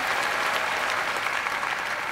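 Audience applause following a music show on a Thai duet singing program, a steady dense clapping from a large crowd filling the whole moment, loud and continuous with no talk over it.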